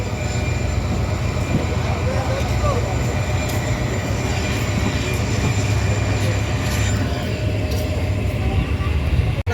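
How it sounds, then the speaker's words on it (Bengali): Steady, loud rumble of a local train running in Bangladesh, near Cumilla, with continuous low engine and wheel noise throughout and faint voices beneath. "কুমিল্লাতে এই লোকাল ট্রেনে এই একটা সমস্যা"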